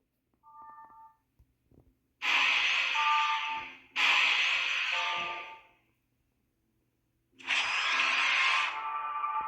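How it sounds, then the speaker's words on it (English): A mining drill in the space game Out There: Omega Edition whirs in two loud bursts of about two and four seconds, then starts again, after a soft chime; no one talks. "I do have the fuel basically to drill a little bit here"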